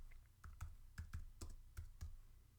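Typing on a computer keyboard to enter a note in project software, with a series of separate key clicks in an uneven rhythm, close and fairly quiet, and no talking.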